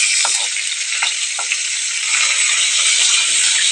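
Silver ayela fish frying in a generous amount of oil, a loud steady sizzle with light spatter and a few soft clinks of a utensil stirring near the start.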